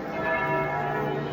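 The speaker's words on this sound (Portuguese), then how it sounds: "ouve os sinos de Assis junto comigo" Church bells ring in Assisi, Italy, with a sustained, resonant, layered tolling that holds steadily and fairly loud throughout, the overlapping tones blending into a continuous wash.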